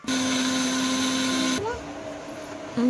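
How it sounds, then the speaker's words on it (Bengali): A kitchen mixer grinder blends ginger, garlic, chili and cumin into paste with a steady, loud motorized whine that cuts off abruptly partway through, leaving a quieter hum before a brief restart at the end. "এই যে আদা রসুন লঙ্কা জিরে একসঙ্গে দিয়ে মিক্সিতে পেস্ট করে নেব।"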